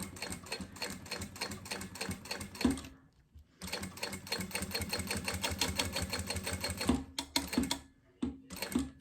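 A sewing machine set to a 4.5 stitch runs close along the edge of a synthetic leather wallet with lining, in rapid rhythmic clattering bursts, a brief pause near the start and several short stops and restarts toward the end.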